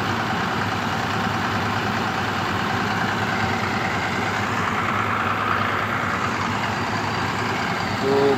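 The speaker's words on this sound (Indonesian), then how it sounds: "Itu bus, bus apa ya? Oh, Bintang Permata Bunda." A Bintang Permata Bunda Transport bus on a Medan–Jember route idles at a ferry-crossing stop, a steady low diesel rumble holding evenly throughout with no voices, rising slightly at the very end.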